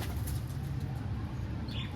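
Low, steady cooing of pigeons fills the space, a soft throaty murmur with a brief higher chirp near the end.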